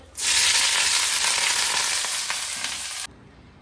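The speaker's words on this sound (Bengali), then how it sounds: "এইটুকু তেলের মধ্যে আলু ভাজাটা হবে" Potatoes cut into thin strips fry in a small amount of oil, giving a loud, steady sizzle that starts abruptly, holds for about three seconds and then cuts off.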